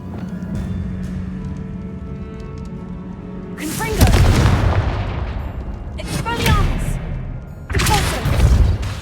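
Confringo fire spell explosions in the video game Hogwarts Legacy blasting a barricaded archway: several loud, booming blasts in quick succession, each with a sharp crack and rumbling tail over a steady game ambience.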